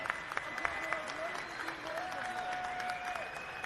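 A wrestling crowd at a Warrior Wrestling World Title triple-threat match cheers and applauds for Will Ospreay, dense sustained clapping with whistles, while a commentator speaks over it.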